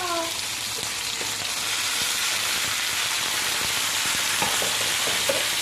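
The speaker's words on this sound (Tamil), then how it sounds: "தக்காளி போட்டு நல்லா வதக்கிடணும்." Chopped tomatoes sauté in hot oil in a pan for fish kulambu, giving a loud, steady sizzle throughout with occasional scraping stirs close by.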